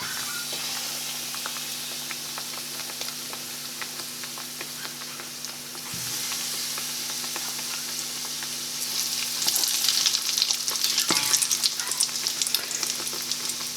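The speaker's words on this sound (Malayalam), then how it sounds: "ശരിക്ക് തിളച്ച എണ്ണയിലേക്ക് നമുക്ക് ഈ ഓരോ ചിക്കൻ പീസ് ഇട്ട് കൊടുക്കാം സാവധാനം" Coated chicken pieces deep-fry in boiling oil, KFC-style, with a continuous close hissing sizzle that grows rougher and louder in the last few seconds, with no voices.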